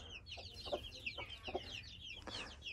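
Chickens cluck faintly in a pigeon and chicken coop, with soft high chirps scattered over a low steady background hum and no talking.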